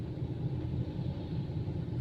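Busy northbound city street thick with traffic, heard as a steady, dense low rumble of car engines that keeps going without a break.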